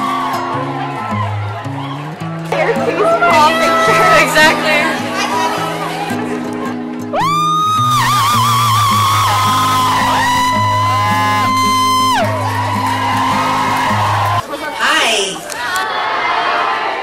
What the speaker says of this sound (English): There's a huge, super huge crowd.